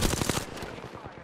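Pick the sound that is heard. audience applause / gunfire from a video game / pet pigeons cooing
gunfire from a video game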